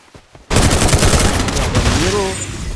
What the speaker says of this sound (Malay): Itu dia shotgun double barrel daripada Suns.